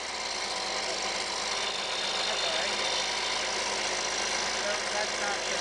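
A new Husqvarna 125B leaf blower runs after a cold start with the choke in use, a steady buzzing two-stroke drone, close and constant without pauses.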